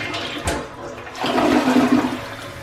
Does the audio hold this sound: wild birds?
no